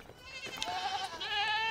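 Goats bleat near a farm gate in a run of wavering, overlapping cries at moderate volume, with no talk over them.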